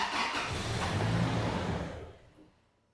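Engine of a Toyota Tacoma 2.7 cranks with a steady whirring churn during a start attempt, a failing no-start condition, loud and close, then fading out after about two seconds with no talking.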